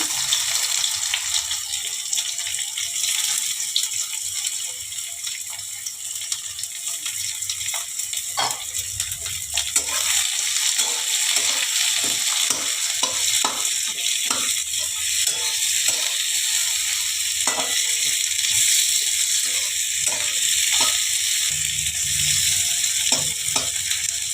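Chopped garlic and onion frying in a pan for a lentil dal, with a loud, continuous close sizzle and a run of quick stirring scrapes through the middle and no voices.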